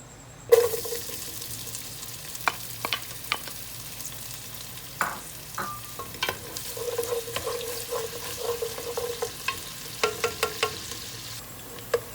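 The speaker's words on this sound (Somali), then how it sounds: "digsigan dabka saartay hadda waxaan ku shubaa saliidi" Oil heating in a pot over a fire for Somali pasta, with soft sizzling crackles and scattered stirring clinks and scrapes, fairly quiet and close, with no talking.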